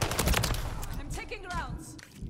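Incoming gunfire in Call of Duty Modern Warfare 3 rattles in rapid bursts, loudest at the start and fading, mixed with game effects and a voice talking over it.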